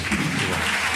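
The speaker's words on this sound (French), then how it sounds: "On peut les applaudir." A conference audience gives a brief burst of applause for the translators at a public talk on the coronavirus; dense, steady clapping fills the whole moment without pause.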